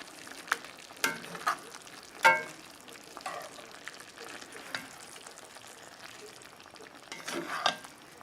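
Smoked beef sausage skillet sizzles gently in a pan over low heat while a utensil stirs it, with soft frying crackle under scattered scrapes and clinks against the pan.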